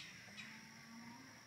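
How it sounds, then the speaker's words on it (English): A neighbor's cattle on a farm let out a drawn-out, low moo that sounds moderately distant over quiet outdoor air. "Do you hear those cows?"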